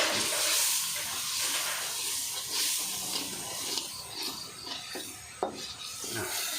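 Continuous scraping and sizzling as curry paste is stir-fried in a hot wok, with a metal utensil scraping and tapping against the surface.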